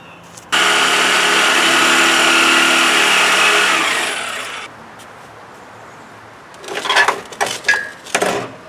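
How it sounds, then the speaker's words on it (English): A loud power saw cutting through a car exhaust screams steadily for about four seconds, then winds down; after a pause, a few short bursts of cutting or revving follow. "So it's time to get the fun saw."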